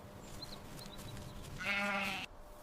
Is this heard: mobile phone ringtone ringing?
no